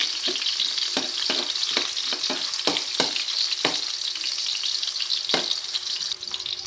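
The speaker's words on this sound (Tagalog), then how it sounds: "Mainit na po yung mantika. Gisa na po natin itong bawang." Garlic sautés in hot oil with a bright, crackling sizzle, punctuated by frequent sharp spatula taps and scrapes against the pan at an uneven rhythm.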